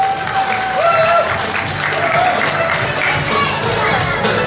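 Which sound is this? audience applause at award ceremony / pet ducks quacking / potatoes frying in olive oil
audience applause at award ceremony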